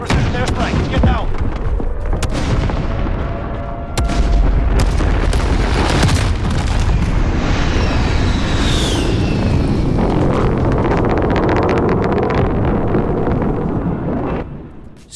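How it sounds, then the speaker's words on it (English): Precision airstrike explosions in the video game Modern Warfare: a series of loud, heavy booms and blasts with rumbling gunfire-like bursts, sustained and close, fading out at the end. "Enemy precision airstrike, get down."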